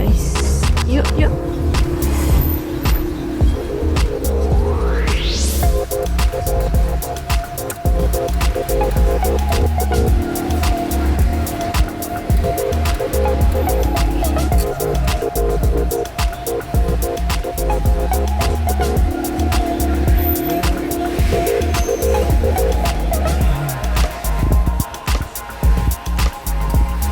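Supermarket parking area in Chile with cars, a steady low engine rumble and traffic hum filling the space continuously throughout, with scattered clatter and movement noises and no clear talk.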